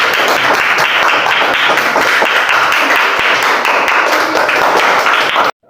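Schoolchildren in a classroom clap their hands together in dense, sustained applause for about five seconds, then the clapping stops abruptly.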